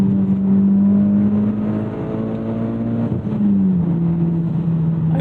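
A 2014 Mitsubishi Lancer Evolution X engine revs hard under acceleration, a loud close droning growl whose pitch climbs, dips at a shift and climbs again.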